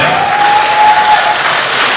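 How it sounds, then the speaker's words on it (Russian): Guests at a corporate holiday party applaud couples, a loud, dense crowd clapping sustained throughout with a thin steady tone running beneath. "Наградим аплодисменты наши прекрасные"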